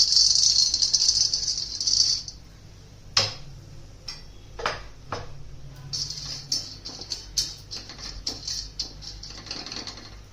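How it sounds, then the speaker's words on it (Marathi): Peanuts roast on an iron tava over a gas flame, giving scattered sharp ticks and rattling clicks as the nuts are moved, set against a steady hiss and low burner hum, with no speech. "गॅसवरती लोखंडी तवा ठेवला आणि त्याच्यावरती शेंगदाणे भाजून घ्या आपण"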